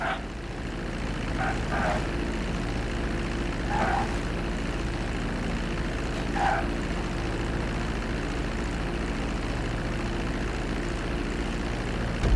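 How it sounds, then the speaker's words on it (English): A steady airplane engine drones throughout as a plane lands on a runway in Grand Theft Auto V, with a few faint bursts rising above the constant hum. "Start reducing the plane's altitude gradually so you're just above the runway as you approach."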